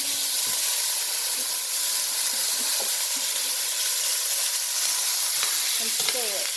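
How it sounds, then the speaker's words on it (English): Rice frying in a pan gives off a steady, close sizzling hiss with occasional stirring scrapes and faint clicks, and no talk over it. "We're going to fry us some rice."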